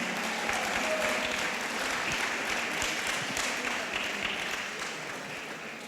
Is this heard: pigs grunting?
no